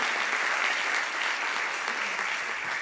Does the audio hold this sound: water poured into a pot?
no